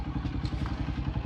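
A motorbike crossing a stream near the India–Pakistan border at Sialkot, its engine a steady, close rumble with clattering, splashy thuds throughout.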